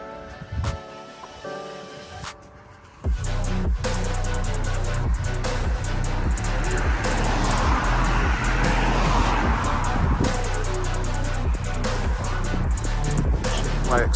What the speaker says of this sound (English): Great lorry came, followed by fast moving vehicles